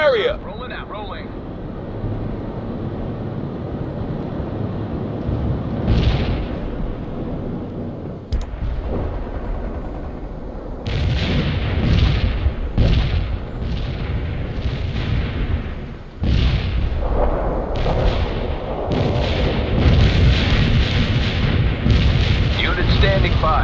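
Artillery fire in the PC strategy game World in Conflict rumbles as repeated deep booms and explosions, loud and close, layered over game noise and voiced unit radio chatter.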